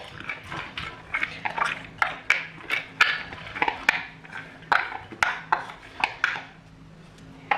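Soaked, washed chana dal tipped into a pot, giving a run of sharp clattering and scraping hits in an irregular rhythm, close and fairly loud, for several seconds before fading.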